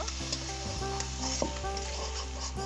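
A cumin-based spice paste for mutton curry is stir-fried in oil, a soft sizzle under a low steady hum, with scattered spoon scrapes and taps against the pot.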